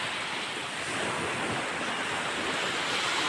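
Loud, steady roar of sea surf with wind buffeting the microphone, a continuous wash of breaking waves close by.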